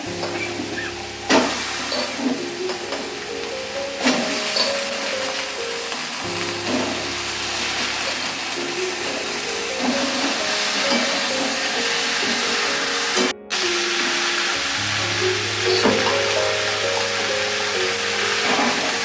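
Pointed gourd and soybean chunks sautéing together in a pan, a steady close sizzle with stirring and scraping that runs the whole time, no voices.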